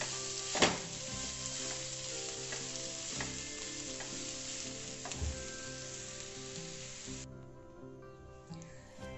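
A mashed banana flower cutlet mixture stirred in a pan over a low flame, giving a gentle continuous sizzle with soft scraping strokes and one sharp clack near the start.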